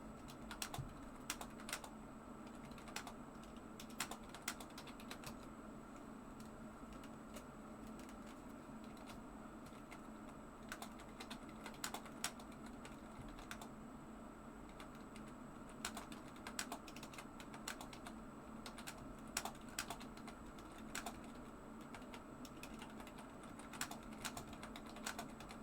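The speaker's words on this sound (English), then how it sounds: "You like the clicky noises, don't lie." Rapid clicking of computer keyboard keys, steady and continuous with occasional louder bursts, heard alone at a moderate distance.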